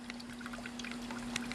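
Coconut water pouring and trickling out of a freshly opened coconut, a faint, close liquid stream with small splashes over a steady background hum.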